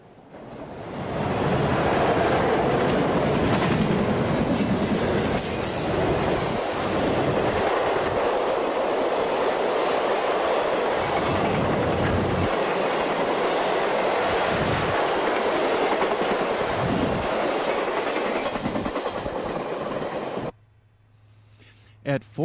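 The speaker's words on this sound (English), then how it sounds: "our first Conrail eastbound TOMT rolls onto the Norfolk Southern overpass" A Conrail eastbound TOMT freight train rolls across a Norfolk Southern overpass at Oak Harbor, a loud, steady rumble of wheels and railcars with clickety-clack and some squeal that carries for about twenty seconds before abruptly cutting off.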